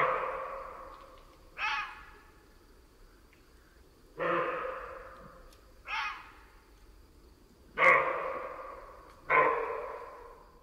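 A roe deer gives about five hoarse, gruff barks, spaced roughly two seconds apart, fairly close against a quiet outdoor background.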